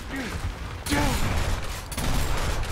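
Gunfire in a competitive shooter match on the Canals map, bursts of shots breaking out in two loud stretches alongside team voice chat and callouts.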